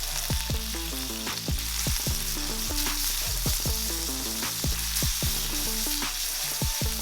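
Pork belly stir frying in oil on a cast iron griddle, a loud steady sizzle close up, punctuated by repeated scraping and clanking strokes of two spatulas breaking up the meat.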